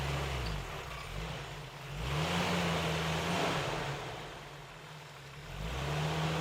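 A stuck vehicle's engine revs in surges, rising and falling in pitch as the wheels spin, with a rushing hiss over it and no voices.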